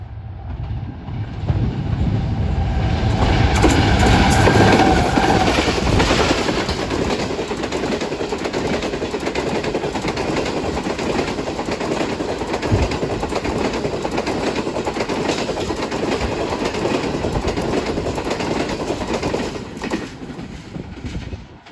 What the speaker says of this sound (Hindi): 34 डाउन पार्क बिजनेस एक्सप्रेस आ चुकी है और स्पीड में आ रही है।